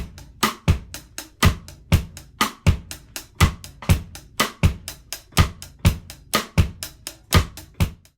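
A full drum groove pairs cross-stick snare clicks with steady hi-hats and a syncopated kick, playing alone in a tight, evenly repeating pattern at a moderate tempo for several bars.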